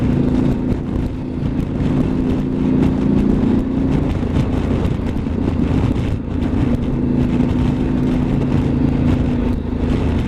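A Harley motorcycle cruising along a road between Nashville and Chattanooga: a steady, loud engine drone mixed with wind rush, holding a fairly even pitch throughout.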